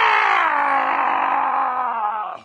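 Enemy creature sound from the Halo video game, a loud, drawn-out groaning roar that slides slowly downward in pitch over a couple of seconds before cutting off.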